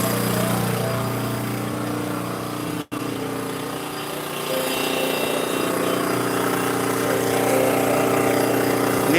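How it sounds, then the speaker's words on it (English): An outdoor gas-powered generator runs with a steady, buzzing engine drone close by. It drops out for a split second and then continues unbroken. "The dreaded gas-powered generator."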